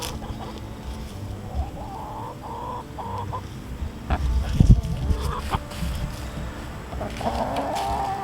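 Chickens cluck and murmur softly in a garden during sweet potato digging, against steady outdoor background noise, with a louder rustle or thump midway.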